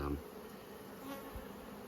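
A continuous low buzz of many honey bees swarming around an open hive during spring brood-box management, steady and close.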